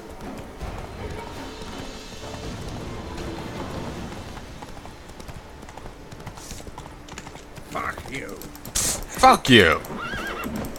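In The Witcher 3 video game, the horse Roach gallops with rapid clip-clop hoofbeats, then lets out a loud, shrill whinny near the end, while someone talks and shouts over the action.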